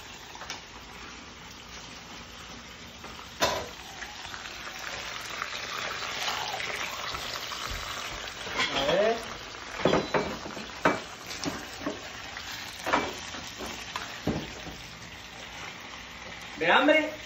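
Epazote and onion fry in a pan with a steady sizzle, broken by scraping stirs and clinks of a utensil against the pot, while people talk nearby.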